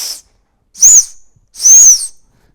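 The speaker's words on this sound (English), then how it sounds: "Pretty hard to make a good whistle noise out of it." Small whistle built into a Salomon Active Skin 8 running vest, blown in three short, thin, high-pitched bursts with breathy hiss, close and fairly loud, separated by silence.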